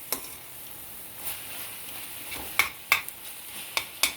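Bell peppers and onions sizzling in a pan for a keto Philly cheesesteak, a low steady fry under several sharp scraping stirs near the end, close by with no talk.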